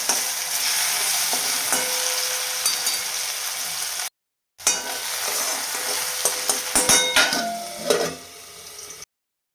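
Potatoes sauté in oil in a pan for sabudana khichdi, with a loud continuous sizzle and scattered scrapes and clinks of stirring, broken by one short silent gap.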